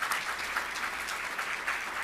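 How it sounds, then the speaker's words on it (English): A summit audience claps in a brief, dense burst of applause, steady and moderately loud throughout. "let's give that a round of applause"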